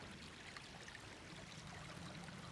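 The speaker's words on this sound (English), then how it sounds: "a creek crossing" A creek on the Appalachian Trail in New Jersey's Wawayanda State Park runs over rocks at a crossing with no bridge, giving a steady, close rush and trickle of flowing water with no voices.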